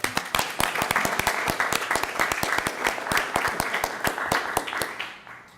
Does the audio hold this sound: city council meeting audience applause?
yes